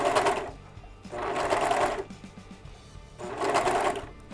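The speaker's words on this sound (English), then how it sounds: "this is using the same settings as a 2-thread flat lock" A serger stitches a decorative ladder stitch on 2-thread flatlock settings, its fast whirring motor running in three separate bursts of about a second each, loud and close, with short pauses between.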